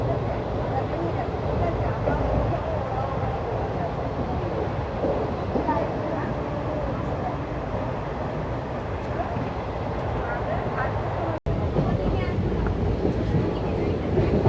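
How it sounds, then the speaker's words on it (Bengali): A passenger train moving at high speed between Malda and Farakka, a continuous rumbling roar that holds steady throughout with one brief dropout near the end. "ট্রেনটা খুব স্পিডে যাচ্ছে"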